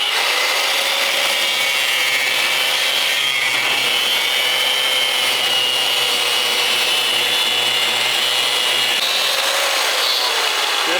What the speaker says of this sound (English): get the cutoff wheel on it, get her out of our way